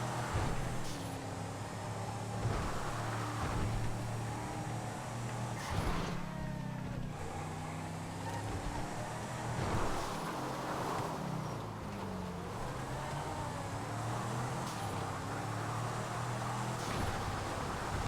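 Massacro car engine in the GTA FiveM video game, a steady droning engine note with pitch sweeps rising and falling as the car drifts and understeers, held at an even level throughout with no speech.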